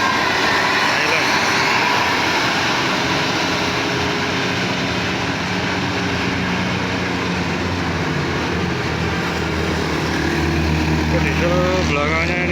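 The rear-mounted diesel engine of a medium Jetbus 3 bus runs with a loud, steady, droning roar that holds evenly throughout. Voices talk faintly over it.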